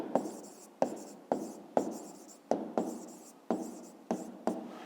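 Pen strokes writing out a fifth-grade math exercise by hand, a steady series of sharp scratching bursts on paper, about nine close, distinct strokes with short pauses, no talking.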